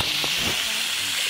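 Baung fish frying in hot oil outdoors, a steady close hiss of sizzling that runs unbroken throughout with a couple of faint bumps underneath.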